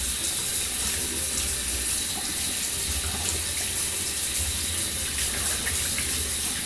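A water tap runs steadily into a sink while a finger is rinsed, a continuous close splashing hiss with slight variations in the flow.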